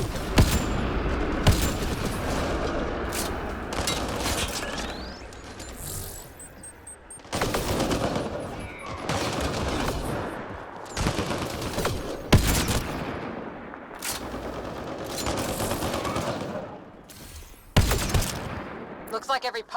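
Rapid gunfire crackles through a Mass Effect: Andromeda firefight against pirates, with loud automatic bursts, sharp single shots and occasional booms. Lulls and sudden volleys recur across the stretch, and character voices are heard intermittently.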